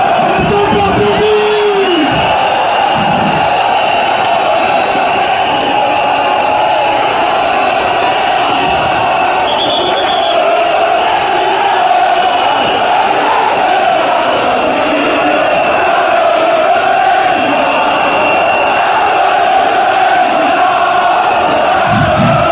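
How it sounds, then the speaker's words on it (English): Large crowd at a public event in Cameroon cheering and shouting with applause, a loud, continuous roar of voices and whoops throughout. "Est-ce qu'on peut applaudir?"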